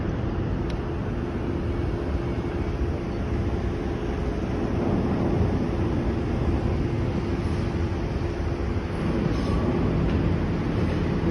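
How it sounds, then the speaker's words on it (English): A train approaches the Avonmouth Docks Junction level crossing near Bristol, with a steady, loud low rumble that holds at an even level throughout and no voices. "Second train approaching."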